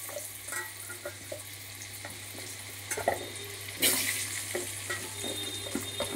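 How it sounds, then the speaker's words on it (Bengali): Diced potatoes fry in butter and oil in a kadai with a continuous close sizzle, broken by scraping stirs and clattering as they settle in the pan, with no one talking. "প্রথমে আলুগুলো আমি দিয়ে দিচ্ছি কড়াইতে।"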